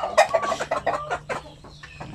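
Chickens clucking at a backyard chicken farm with sampin roosters and hens, a quick run of close, choppy clucks and short squawks, fairly loud, thinning out toward the end.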